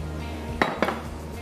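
Two quick clinks of a utensil striking a bowl as egg is beaten for coating chicken, sharp and close over a faint background hum.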